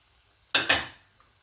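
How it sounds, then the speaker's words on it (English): Celeriac and onions drop into melted butter in a pot, two quick loud clattering splashes followed by a brief fading sizzle, heard alone. "Butter melted in the pot, the celeriac, add the onions"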